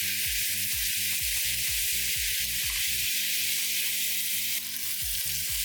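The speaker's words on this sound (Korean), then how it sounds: "이제 간장 1테이블스푼을 넣습니다. 그리고 팬을 기울여서 간장을 살짝 세워줍니다." Soy sauce sizzles and fries in a hot tilted pan while making spicy seafood jjamppong tteokbokki, a loud steady crackle with rhythmic stirring or scraping clatter underneath throughout.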